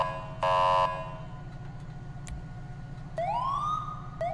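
A Mastercom B police siren in the FiveM mod of the GTA video game sounds over a steady low engine hum, with a short electronic tone burst and then a rising wail starting to climb near the end.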